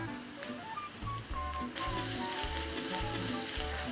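Onions, ginger, garlic and green chili sizzling in a pan, a steady close frying hiss that swells louder halfway through, with soft stirring scrapes.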